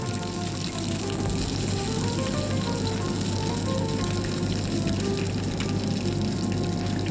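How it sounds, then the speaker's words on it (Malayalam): Chopped ginger frying in a pan with a steady, dense sizzle that holds at an even level throughout, close and continuous with no talking. "ഇഞ്ചി നല്ലപോലെ ഒന്ന് മൂത്ത് വരണം"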